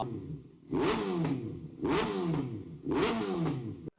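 A Kawasaki ZX6R sport motorcycle revs three times in quick succession, each burst a sharp rising snarl that fades before the next, close and loud with no talk.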